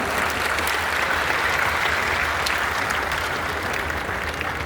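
Steady applause from a crowd fills the whole stretch, dense continuous clapping at an even level, fairly close and loud.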